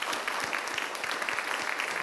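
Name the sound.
audience applause at a symposium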